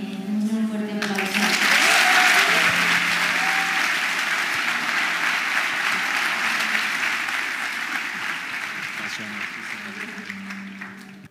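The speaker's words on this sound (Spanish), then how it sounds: "un muy fuerte aplauso" A church congregation breaks into loud, sustained applause that swells early and keeps going steadily before slowly thinning out, with a voice briefly heard at the start.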